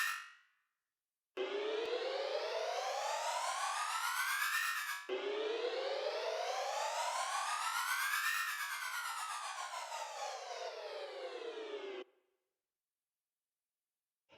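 Synthesized riser and faller sound effect built in FL Studio for phonk beats: a loud, noisy tone sweeps steadily upward, then a second sweep climbs and falls back down, heard alone with silence before and after.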